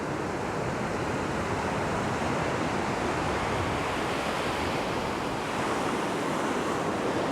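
Shallow, foamy surf washing over a beach shore, a steady broad wash of churning water with wind noise, continuous and fairly close, with no talk.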